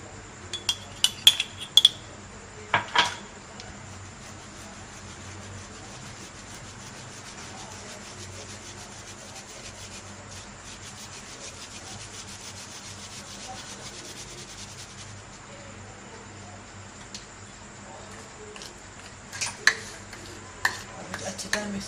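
Flour mixed with baking powder is sifted through a sieve for cupcakes in a home kitchen. Soft scraping and rubbing keeps up steadily, with a few louder taps at the start and end, and no talk.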